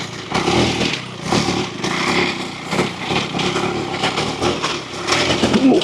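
A KTM 390 Enduro R single-cylinder motorcycle ridden off-road in second gear, its engine buzzing loud and close with rising and falling revs throughout, and no voices.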